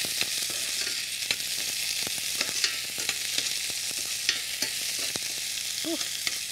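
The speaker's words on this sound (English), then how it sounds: "When the seeds get sizzled and browned, I'm going to add the onions." Fenugreek seeds and onions sizzle steadily in hot oil in a pan, a constant bright frying hiss broken by sharp clicks and scrapes from stirring.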